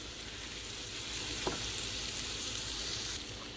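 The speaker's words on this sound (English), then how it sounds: "That's the salmon fillets that are now searing inside our pan of garlic, butter, and onions" Salmon fillets searing in a pan of garlic, butter and onions, giving a quiet, continuous sizzle with soft crackles and no voices.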